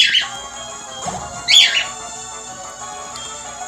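Short electronic chirping bird cry from the Pokémon HeartGold video game, two bright squawking bursts about a second apart over a steady synthesized game tone.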